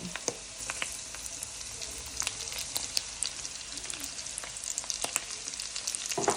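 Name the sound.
garlic frying in pork fat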